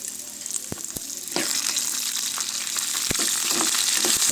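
Dried red chillies, green chillies and curry leaves sizzle in hot oil for lemon rice, a bright hiss that jumps louder partway through and stays steady, with a few sharp clinks of a spoon against the pan.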